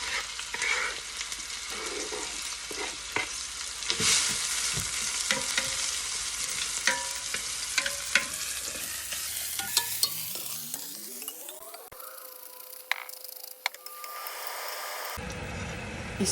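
Garlic cloves and a large finely chopped red onion frying in hot oil in a Dutch oven, a steady close sizzle with occasional utensil clicks while stirring, no voices.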